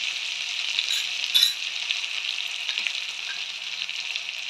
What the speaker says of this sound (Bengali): দিয়ে ভালো করে মশলাটাকে কষাতে হবে।